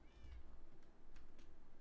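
A cat in a Minecraft game gives a short, faint meow, a single soft call over low background noise.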